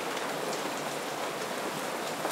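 Steady, dense rainfall pattering on surfaces, a constant hiss of drops with no voices or other sounds.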